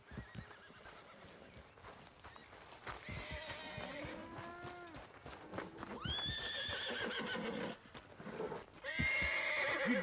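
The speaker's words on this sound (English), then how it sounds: "Need a hand with that horse?" A horse in the video game Red Dead Redemption II neighs and whinnies repeatedly in rising and falling calls, loud and close, over a steady clip-clop of hooves and background noise.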